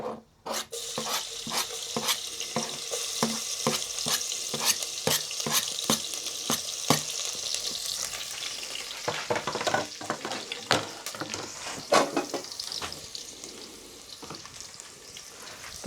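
Chopped ginger and garlic fry in a hot pan, a continuous sizzle close by, punctuated by rhythmic scraping and clacking of a spatula stirring, no voices over it.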